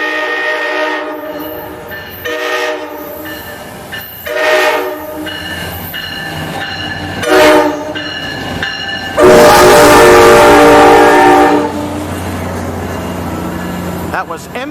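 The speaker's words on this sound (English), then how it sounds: "Listen to that horn work." A VRE commuter train led by an MP36PH3C locomotive passes a grade crossing with lowered gates, sounding its horn in several loud blasts, one long and very close, over rolling wheel and rail noise, with someone talking.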